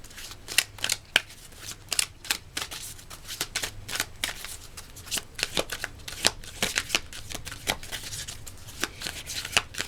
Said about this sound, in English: Let's get an oracle card.